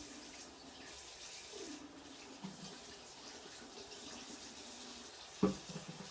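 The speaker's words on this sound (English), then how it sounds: "we're going to get some nice warm water going" Quiet, steady rush of warm water running from a tap, with a small clink near the end.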